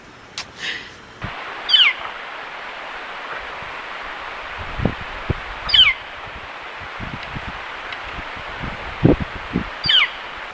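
Brief high bird chirps recur every few seconds outdoors by the St. Joe River in Idaho, with soft rustling and low background noise between them.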